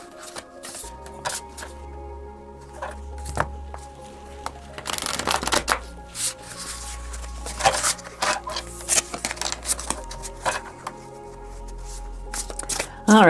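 A standard-size deck of matte tarot cards being shuffled up close, with repeated riffling and sliding bursts, soft taps and card rustles over several seconds.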